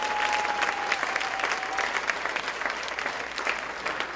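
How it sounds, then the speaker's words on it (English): An audience at a county Teacher of the Year gala applauds the honored teachers, producing a steady, dense wash of clapping from a large crowd that holds evenly throughout. "please give them our first round of applause, our 40th round of applause"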